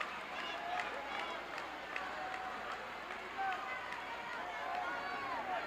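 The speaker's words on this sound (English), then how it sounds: "the crowd here is now getting after Slater, and they are really vocal and noisy" A noisy arena crowd at a 1978 professional wrestling match between Dick Slater and Al Madril shouts and jeers steadily throughout, a dense, continuous roar of voices with scattered louder yells.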